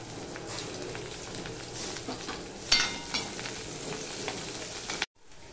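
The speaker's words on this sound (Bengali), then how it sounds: "পেঁয়াজ কেটে রেখেছি আর কাঁচা লঙ্কা চেলা করে রেখেছি, সেগুলো আমি দিয়ে দিলাম।" Sliced onion, green chili and nigella seeds sizzle in hot oil with a steady, fairly soft crackle, a few louder pops and clatters midway, then the sound cuts to silence near the end.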